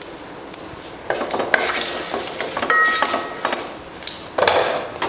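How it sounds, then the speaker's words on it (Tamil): Mustard seeds and asafoetida sizzle in hot oil for a rasam tempering, with a steady frying hiss, a few crackles and pops, and light clinks of a utensil against the pan. "கடுகு பொரிஞ்சதுமே பெருங்காயத்தூள்,"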